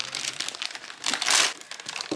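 Plastic vinyl wrap being crinkled and handled up close, a steady rustling that swells to a louder burst midway before settling back to lighter crackles.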